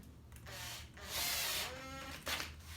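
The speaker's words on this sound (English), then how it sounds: "I'm going to use an automatic screwdriver." An automatic screwdriver drives screws into the brackets of a Roman blind, its motor whirring in short bursts that rise and fall, close up and fairly quiet.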